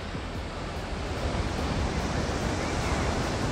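Surf rolls steadily onto the wide sandy La Espasa beach in Caravia, Asturias, a continuous broad wash of waves mixed with some wind noise on the microphone.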